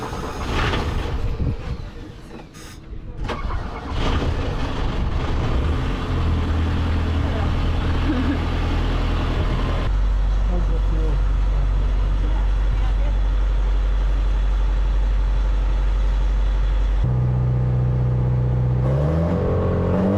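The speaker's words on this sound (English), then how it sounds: "Try and start the engine." A sailboat's inboard engine cranks and catches after a shaft seal adjustment, then settles into a steady, loud low rumble that runs on for a long stretch before the note shifts and drops near the end, with voices talking over it.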